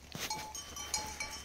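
Goats on a farm give faint, short bleats over a low steady hum, a few quiet calls spread across the moment with a light metallic ring.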